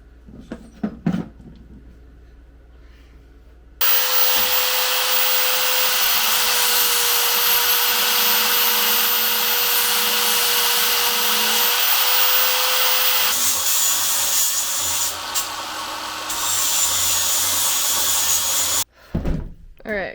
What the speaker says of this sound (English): gotta grind this out a little bit more